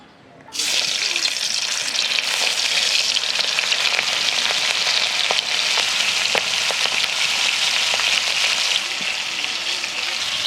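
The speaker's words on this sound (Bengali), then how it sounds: "তেল গরম হয়ে গেছে একে একে মাছগুলো ছেড়ে দিচ্ছি কড়াতে" Pangas fish pieces drop into hot mustard oil in a wok, setting off an abrupt loud, steady sizzle and crackle with scattered pops that continues throughout, close by.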